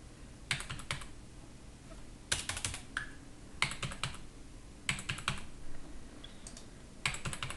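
A password is typed on a computer keyboard in several short bursts of quick key clicks separated by pauses, close and fairly quiet against a low room hum.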